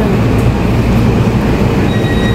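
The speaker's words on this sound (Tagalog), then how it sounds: "Ayan, papalis na yung tren." A train leaves a station on the Taipei Main to Ruifang line, giving a loud, continuous low rail rumble and wagon roar throughout, with no talk.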